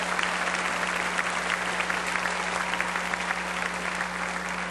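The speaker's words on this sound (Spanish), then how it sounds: "Dele palmas al Señor de la gloria." A church congregation applauding steadily, dense continuous clapping from many hands filling the room at an even level, with a low electrical hum beneath.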